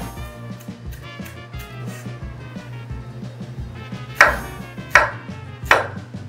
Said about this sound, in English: now I'm gonna go back to my fork and finish chopping these vegetables